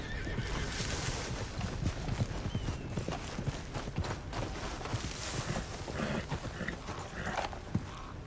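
A horse in the video game Red Dead Redemption 2, hooves clip-clopping close with creaks of tack, mixed with whinnying snorts over a steady background ambience.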